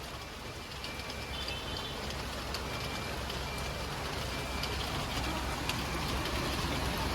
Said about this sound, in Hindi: बारिश ही हो रही है भाई, अप्रैल के महीने में बारिश हो गई।